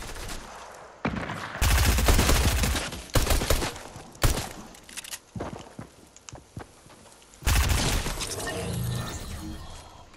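Loud bursts of gunfire in Fortnite crack out in rapid clusters with short gaps between volleys, the heaviest sustained stretch coming at the end, and no talk over it.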